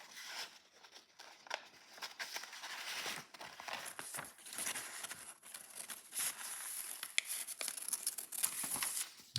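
Repeated crisp snips and papery rustling as scissors cut through paper, close and fairly quiet, with irregular crinkling between cuts.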